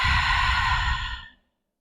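One long, close sigh-like exhale during a yin yoga pose, breathy and fairly loud before it trails off into silence.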